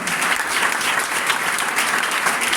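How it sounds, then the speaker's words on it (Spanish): A church congregation applauds in steady, dense clapping that holds at an even loudness from start to finish, filling a large room. "apláudalo a él"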